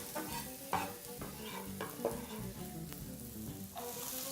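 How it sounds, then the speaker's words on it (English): Onions sauteing in butter in a frying pan over medium-low heat, a soft steady sizzle with occasional stirring scrapes, close and fairly quiet throughout. "So I'm frying this at medium to low heat."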